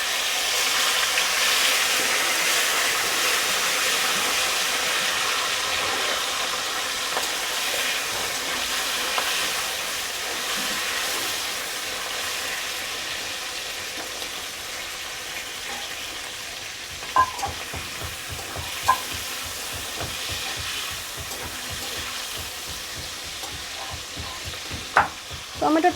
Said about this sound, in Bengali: টমেটোটা একটু ভাজা ভাজা মতন